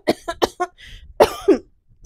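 A person coughs several times in a quick cluster, then clears the throat with two harsher bursts. The sounds are close and dry, with brief gaps between them.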